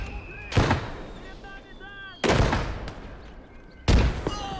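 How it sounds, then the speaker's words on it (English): Explosions in a World War II-style shooter game, three heavy booming blasts spaced a second or two apart, with shouted voices talking over the battle between them. "Nice freaking nade"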